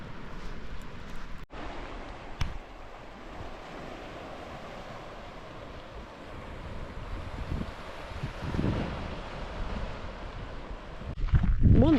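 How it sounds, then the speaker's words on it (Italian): Wind buffets the microphone in a steady outdoor rumble on a beach west of Cagliari, Sardinia, with surf washing in the background and a few louder gusts toward the end. "c'è un pochino più di vento"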